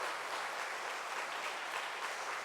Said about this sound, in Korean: 우리 사모님 위해서 큰 박수 한 번 환영하겠습니다.